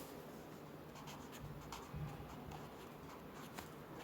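Marker or chalk writing on a classroom board during a maths lesson on triangles, a steady scratchy stroking that runs on and off close by, with no talk over it.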